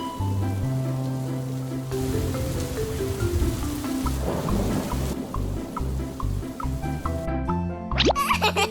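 Animated rain pours steadily while rolling thunder rumbles low underneath, a continuous wet patter throughout, ending with a brief whistling sweep.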